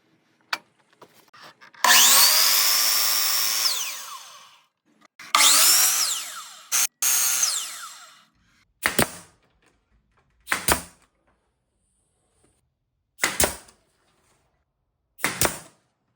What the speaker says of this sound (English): go cut them on the miter saw